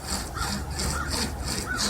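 A rope chainsaw is pulled back and forth through a wooden roof rafter, giving a rhythmic rasping saw stroke roughly every half second. The strokes are steady, close and continuous, with no talking.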